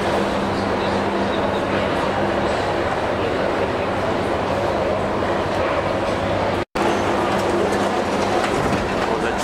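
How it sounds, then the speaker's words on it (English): A Budapest Metro Line 3 train rumbles steadily with rhythmic wheel clatter, loud and close, as it pulls into a station; a brief cut interrupts the noise near the end. "Train has just arrived."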